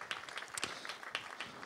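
A brief burst of audience applause follows the signing of a partnership chair on water in the Alpes-Maritimes. Many hands clap steadily in a room, neither close nor distant.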